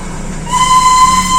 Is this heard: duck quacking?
no